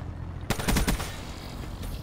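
A sniper rifle shot in a video game: a sharp burst of several close cracks, loud and brief against a steady game backdrop, with no talk.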